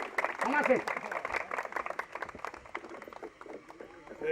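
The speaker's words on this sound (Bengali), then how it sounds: "তালি দেন সবাই, তালি দেন সবাই, তালি দেন।" An audience at an event claps as the chief guest is welcomed to speak, a dense, moderately close patter of applause that thins toward the end, with a voice calling out over it.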